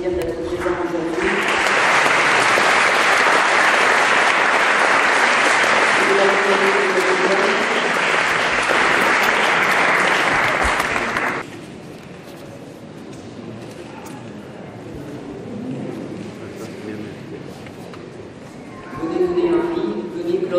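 Church congregation applauding loudly, a dense sustained wash of clapping that fills the space for about ten seconds, then drops away to murmuring and movement before a voice comes in.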